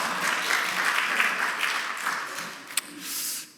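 A church congregation claps steadily for a few seconds, a warm wash of applause that thins out toward the end.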